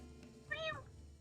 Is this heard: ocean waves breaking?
no